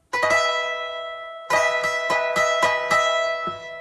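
A short electric guitar lick: a quick pair of picked notes, a pause, then a rhythmic run of bright, ringing notes.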